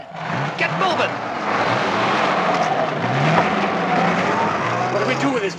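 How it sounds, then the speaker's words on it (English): A car comes along a road with a loud, steady engine roar and broad road and tire noise that builds and holds throughout, close and dominant. "There's a car coming."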